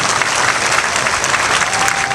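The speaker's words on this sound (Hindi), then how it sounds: "तालियां बजा के प्रधानमंत्री जी का अभिनंदन कीजिए, स्वागत कीजिए" A crowd at a political rally claps to welcome the Prime Minister, producing dense, loud, continuous applause with no break.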